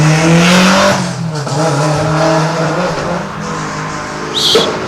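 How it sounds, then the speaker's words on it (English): Scott Bradley's Nissan Pulsar race car skids near the top of a lakeside hillclimb course. A loud, sustained engine roar with shifting pitch is joined by a brief sharp tire squeal near the end. "I think Scott Bradley's Nissan Pulsar is skidding around there a bit at the top"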